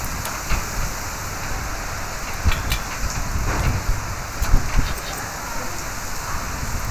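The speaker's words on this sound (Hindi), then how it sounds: "वाव क्या हवा बारी बारिश।" Steady heavy rain hisses with gusts of wind buffeting the microphone, occasional louder thumps and drips, close and constant, no speech.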